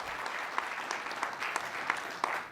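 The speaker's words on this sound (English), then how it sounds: "a round of applause for Eran Aloni" Steady applause from a conference audience, a dense patter of clapping with a few sharper individual claps standing out, continuous throughout.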